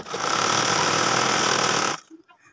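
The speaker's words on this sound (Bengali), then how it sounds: "একটা একটা ফুল বানিয়ে নিচ্ছি আর এখানে ভরে সেলাই করে নিচ্ছি" Sewing machine stitching fabric flowers onto a child's top, a fast dense mechanical whir running loud and steady for about two seconds, then stopping abruptly.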